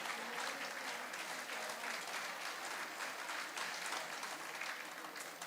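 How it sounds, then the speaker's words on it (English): An audience applauds the judges at a youth speaking event, a dense, even wash of clapping that holds steady throughout without a break, heard from within the crowd at moderate distance. "could we give another round of applause to our judges who did some great work already"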